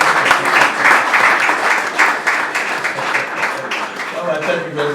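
An audience applauds with brisk, continuous clapping that swells in rhythmic waves before easing off, with a voice speaking over it toward the end.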